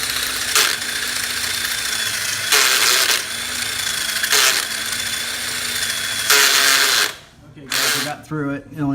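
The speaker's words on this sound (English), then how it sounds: "And then just start drilling slowly." A power drill whines steadily, surging in several louder bursts as it bites into a metal footpeg mount on a Kawasaki KLR650 motorcycle, then cuts out before a voice speaks briefly.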